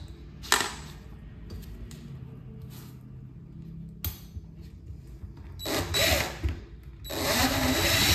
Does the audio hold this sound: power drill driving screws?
yes